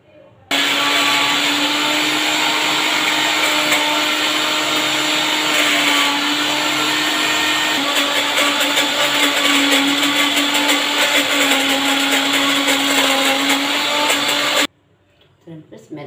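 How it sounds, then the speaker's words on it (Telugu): A mixer grinder runs loudly and continuously as henna leaves are ground with a little water, a steady close whirring drone that stops abruptly near the end. "కొద్దిగా వాటర్ యాడ్ చేస్తూ, కావాల్సినంత గోరింటాకు వేస్తూ నేనైతే మిక్సీ పడుతున్నాను"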